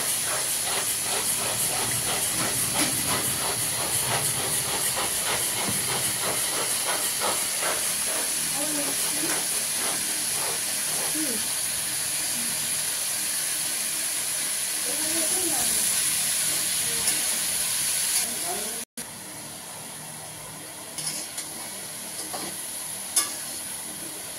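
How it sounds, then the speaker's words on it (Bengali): Potatoes and cauliflower fry in a pan with ground coriander and cumin, giving a steady, close hiss and sizzle that runs almost unbroken, with faint stirring scrapes and a brief drop near the end. "এখন আলু ফুলকপিটা কষা হচ্ছে"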